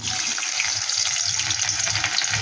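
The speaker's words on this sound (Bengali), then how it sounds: "কিছু রসুন কুচি দিয়ে দিলাম।" Chopped garlic and whole garam masala spices fry in hot oil for egg chilli, a loud, close, continuous crackling sizzle that holds steady throughout.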